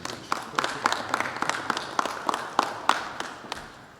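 Sparse, uneven hand claps from a small audience at a college athletics event with the governor, a dozen or so distinct claps spaced irregularly over a few seconds, fairly close and moderately loud.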